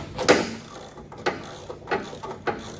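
Ratchet wrench tightening a bolt on the suspension of a Datsun Z-car, brake and suspension parts 40 years old: a few short, separated clicking bursts in a quiet garage, spaced about a second apart.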